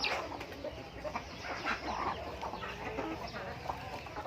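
Six-month-old Thai gamecocks cluck and call nearby in short irregular bursts, with other bird sounds in the background.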